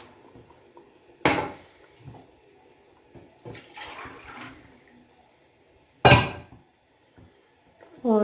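Glasses of water are poured into a pot of rice for matar pulao, heard as two loud close splashes several seconds apart with softer trickles and clinks of kitchenware between them.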